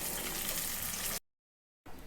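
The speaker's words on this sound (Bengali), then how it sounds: "মাছ ভাজা বসালাম।" Fish frying in a pan gives a close, steady broadband sizzle that cuts out abruptly into silence for a moment, then resumes.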